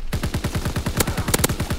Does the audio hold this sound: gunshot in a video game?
yes